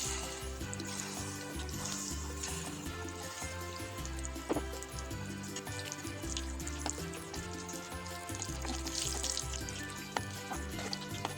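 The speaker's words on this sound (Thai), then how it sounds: "ไฟร้อนเราก็ลงทอดเลยค่ะ" Steady hissing and crackling of corn fritters frying in hot oil, continuous and close, with faint clinks now and then.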